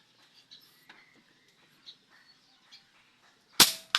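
Single sharp pop of an airsoft gun with a weak-shot spring tension problem, a quick broadband crack near the end of a quiet stretch, following faint rustling and small clicks.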